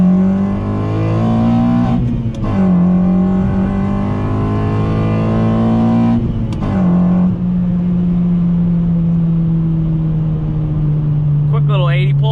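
A Honda Civic on air suspension revs and downshifts while driving, with audible intake noise. The engine drone climbs steadily, drops sharply at two shifts, then carries a long, slowly falling tone, and a voice talks over it.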